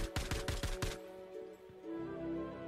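Weapon fire in Star Citizen: a rapid burst of about six loud, close shots in the first second, then a quieter mechanical tail and low ambient hum with no talk.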